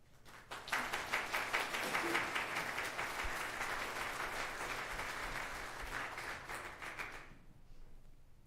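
Applause from an audience welcoming a speaker at a community gathering, a steady wash of many hands clapping that swells quickly, holds for several seconds, then fades out near the end.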